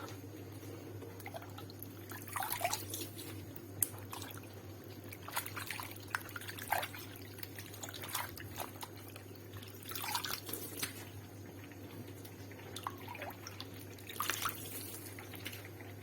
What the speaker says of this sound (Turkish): Soğuk suyun içindeki üfeliklerimizi süzgecimize alalım.